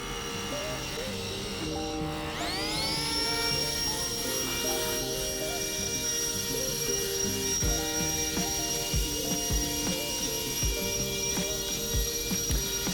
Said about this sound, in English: This is a Craftsman blower right here that I've had for several years.